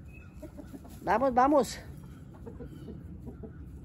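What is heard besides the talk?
chickens clucking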